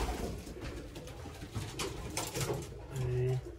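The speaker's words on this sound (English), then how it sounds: "young birds here." Low coos of young pigeons sound close by in a loft amid rustling and faint background voices, with a clear cooing call near the end.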